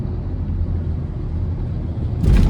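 A 2022 Hyundai Tucson Hybrid SEL with a 1.6-litre turbo engine and electric motors accelerates under heavy throttle, heard from inside the cabin as a steady low engine drone and rumble that swells louder near the end.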